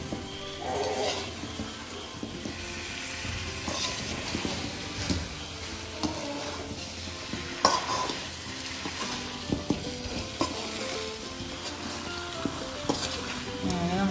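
Hog plums are stirred into a sizzling Kerala-style pickle mixture in a hot pan, a steady close frying crackle with frequent spoon scrapes and clinks against the vessel throughout.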